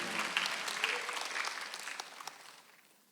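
A church congregation at a Sunday worship service breaks into applause, a dense wash of clapping that starts strong and gradually fades away over a few seconds.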